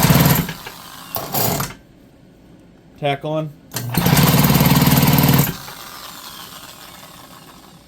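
A power drill cranks a small engine fitted with a 3D-printed intake, giving loud buzzing bursts of whirring and rattling that start and stop, with a brief spoken phrase in between.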